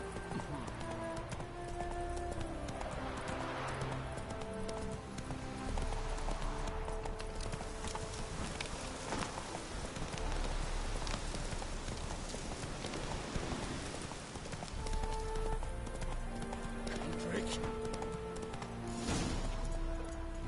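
Horse galloping in The Witcher 3: a steady, quick run of hoofbeats carrying on throughout, moderately close, mixed with game ambience and background music.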